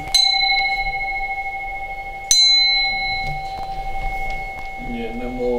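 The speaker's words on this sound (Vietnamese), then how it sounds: "Tiếng chuông ngân tha thiết gọi tình." A bell at a Buddhist funeral ceremony is struck twice, several seconds apart, each strike ringing out bright and close with a long, sustained decay while a voice speaks over it.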